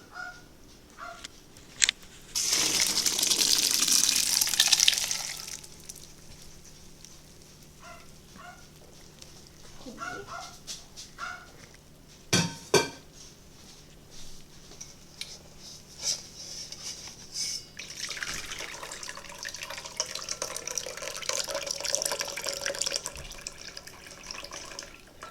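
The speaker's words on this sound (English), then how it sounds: "So the first thing I'm going to do is drain them." Cooked dry beans drained in a kitchen sink, a burst of rushing water from a faucet or pouring early on, then scattered clatter and softer running water later.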